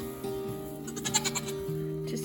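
A Nigerian Dwarf goat bleats on a farm during kidding, a short wavering call rising briefly over a steady background hum, fairly faint and without talk.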